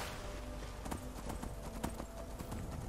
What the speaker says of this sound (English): Faster, horsey, faster.